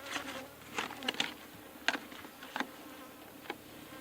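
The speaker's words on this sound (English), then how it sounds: "for these bees, the later on in the evening you work with them, the more calm they are" Honey bees buzz around a beehive in the late afternoon or early evening, a soft, irregular drone with several louder passes of single bees flying close by.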